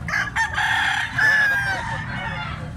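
A black-legged chicken on a vegetable farm crows, a loud, close rooster call with a rising, drawn-out cock-a-doodle-doo that fills the moment, with faint background noise beneath.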